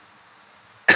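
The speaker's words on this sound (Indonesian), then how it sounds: "sorry batuk, kebanyakan ngerokok soalnya" A smoker gives a single short, sharp cough at the very end, breaking an otherwise quiet stretch with only a faint hum beneath.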